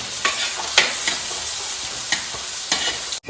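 Garlic and other ingredients sautéing in a pan for a kappa meen curry, a steady bright sizzle broken by several sharp stirring scrapes, close and loud with no voices.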